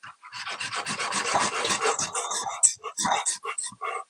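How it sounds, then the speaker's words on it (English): A dull kitchen knife gets sharpened with quick, close rasping strokes in an uneven rhythm, and talking is heard over it. "let me sharpen this knife a bit because it's getting dull"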